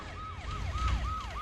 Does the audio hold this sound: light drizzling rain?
no